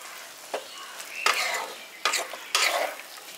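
A spatula stirs soya chili manchurian in a sizzling frying pan, village style, with a few bursts of scraping and frying over a steady hiss, close and fairly loud.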